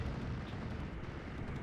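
Steel Division 2 aircraft strafe ground targets, a dense, continuous rumble of gunfire and explosions blended into one loud, steady roar for a short burst, with no talk.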